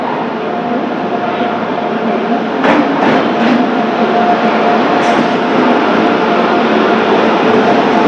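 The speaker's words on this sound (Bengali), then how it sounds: "এই যে অবশ্যই আমার ট্রেনে চলে আসলো।" A train pulling into a station on the Jaipur to Agra route, a loud continuous rumbling roar with a few short higher squeals and knocks over the steady drone.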